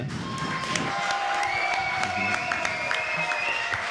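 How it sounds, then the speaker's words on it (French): An audience applauds a player at an esports tournament, steady clapping and some cheering from a crowd, with sharp claps standing out and a voice faintly underneath. "Le public, je vous propose d'applaudir Ponf, s'il vous plaît"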